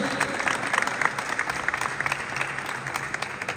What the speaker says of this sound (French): Des tonnerres d'applaudissements pour lui s'il vous plaît.